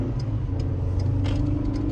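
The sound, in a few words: 2023 Ford Ranger Tremor engine revving while accelerating uphill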